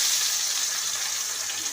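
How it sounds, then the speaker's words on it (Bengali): Khoira fish frying in hot oil, a steady, close, bright sizzling hiss that holds level for the whole moment with no voices over it. "আমি এবার মাছটা দেব।"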